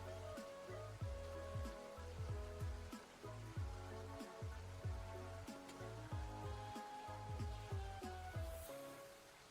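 A recorded rain track hisses softly beneath a slowed-down drum track whose deep, regular thumps repeat in a steady looping rhythm, all played quietly.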